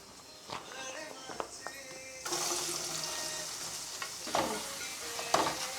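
Onion frying in a pan with cinnamon and cloves while being stirred, for a Chinese-style mutton dish, giving a steady close sizzle with scraping stir strokes that swell louder partway through.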